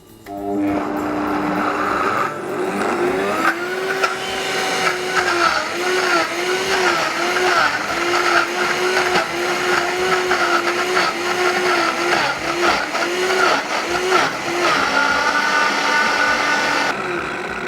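A Vitamix Ascent blender roars at high speed through a chocolate cauliflower fudge mix, a loud, steady motor whir with a slightly wavering pitch that runs throughout.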